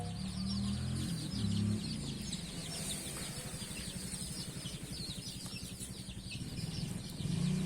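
Chickens cluck steadily inside a large coop where chicks have hatched in a nest, a continuous close chorus of murmuring and repeated clucks over a low, humming background, with no voices.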